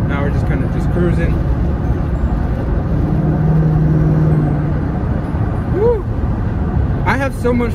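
A 2011 Ford Mustang GT cruising with a steady engine and exhaust drone throughout, heard from the cabin, with occasional voice-like tones near the end.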